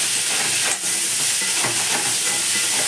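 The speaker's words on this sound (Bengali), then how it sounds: "তুলেছি সেই কড়াতেই কাঁকড়াগুলো ভেজে নেবো।" Crabs fry in hot oil with turmeric in a wok, giving a steady loud sizzle broken by stirring scrapes, close up with no talk.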